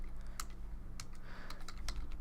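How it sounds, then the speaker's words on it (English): Typing on a computer keyboard: a handful of crisp key clicks in an irregular rhythm, fairly faint, over a low steady electrical hum with no talking. "This is more typing."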